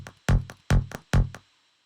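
Three punchy synthesized psytrance bass notes made in Ableton, each with a sharp clicky transient and a short decaying tail, evenly spaced and fading to silence at the end.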